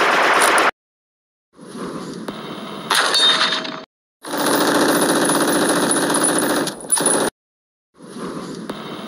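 Bursts of gunfire sound effects in a stop-motion battle scene, loud clattering and clanging volleys in several separate bursts with silent gaps between them.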